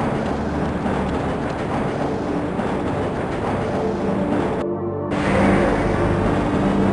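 A tram in the video game Half-Life rumbles steadily along rails, a continuous low mechanical drone with a brief dropout before the rolling noise resumes slightly louder.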